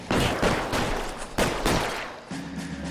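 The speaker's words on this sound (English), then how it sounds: "Pas une mitraillette là?" Automatic machine gun fire in the 1940s crime game L.A. Noire, loud sustained bursts of rapid shots with brief pauses between volleys, close and dominant, with no talk.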